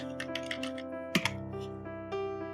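Computer keyboard keys click as Ctrl+S is pressed to save a file in MS Paint, a handful of crisp taps over a steady humming tone in the background.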